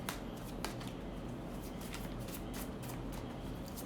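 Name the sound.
shuffling tarot cards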